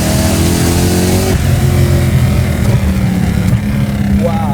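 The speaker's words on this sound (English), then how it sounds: "Wow, those backfires too." A supercharged V8-swapped BMW E30 revs hard and loud close by, its steady engine roar broken by sharp backfire pops, with people talking over it.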